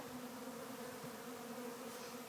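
Honey bees buzz in a steady, dense drone as they are brushed into a hive during installation, the swarm hum continuous and close with no talk.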